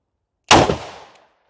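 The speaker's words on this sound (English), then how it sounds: "That was muzzle blast. That was loud." A single loud, sharp revolver gunshot muzzle blast from a snub-nose revolver cracks close by and decays over about half a second, with nothing else around it.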